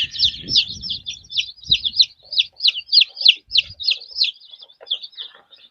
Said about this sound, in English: We've had these chicks now for 4 days in the brooder